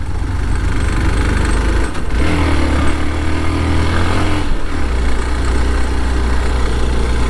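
A Hero Xpulse 200 4V adventure motorcycle engine labours steadily uphill on a trail near a waterfall, a continuous close, loud low rumble with a brief dip in revs partway through and again later.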